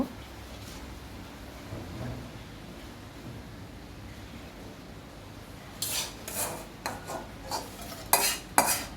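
A faint low sizzle of onions frying with garlic and onion paste runs throughout, then a series of brisk scraping strokes as the frying pan is stirred near the end.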